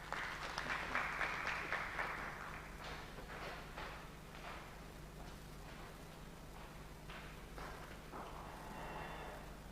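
Workshop audience at a real estate engagement meeting in Mzuzu breaks into a burst of applause that thins out into scattered, fading claps.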